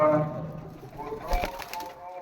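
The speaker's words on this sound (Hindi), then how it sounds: "ये कबूतर है ना, ये मेरा 5 नंबर कबूतर है" A pigeon coos softly and close by, a low throaty burble under some background noise.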